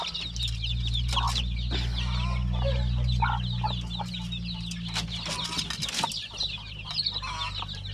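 Native chickens cluck and peep busily around a young brood of chicks at feeding, with a steady low hum underneath and scattered sharp calls.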